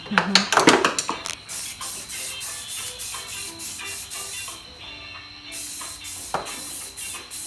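Spray can painting a Honda Civic Si spoiler, a hissing spray burst near the start followed by a longer steady hiss, with people talking nearby.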